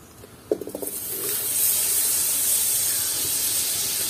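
Butter hitting a heated kadai (wok) gives a few sharp crackles, then settles into a steady, loud, close hiss of sizzling that carries on without talk, while cooking a village-style local chicken curry.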